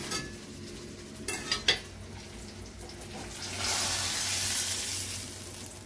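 Fried green chillies are scraped from a pan into a bowl: a few quick metallic clinks and scrapes of utensil on cookware, then a soft sustained hiss.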